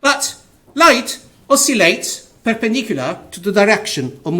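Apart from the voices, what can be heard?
No distinct noise like a dog, phone or traffic.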